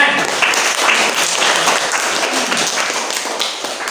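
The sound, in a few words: applause for student group presentation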